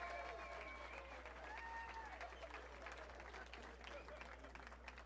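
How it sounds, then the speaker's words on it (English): Audience applause in a comedy showroom, a faint steady patter of many hands with a voice talking over it and a low hum underneath. "Give yourselves a round of applause, everybody."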